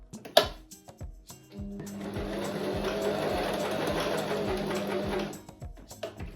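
An overlocker serges the raw edges of cut fabric pieces for a summer dress, running in one steady, close whirring burst of about three and a half seconds, with a few light clicks and handling taps before and after.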